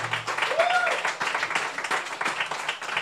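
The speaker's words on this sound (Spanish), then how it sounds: "Un aplauso para Evencio Riado, por favor." An audience at a live comedy show claps in a dense, steady applause that fills the room for about three seconds, with a voice briefly heard near the start.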